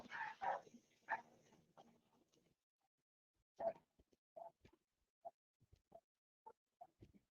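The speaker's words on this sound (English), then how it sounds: "If you can hear some dogs and cats, sorry about that." Neighbours' dogs barking in a series of short, evenly spaced barks that sound fairly distant and moderately loud, following a busier burst of sound at the start.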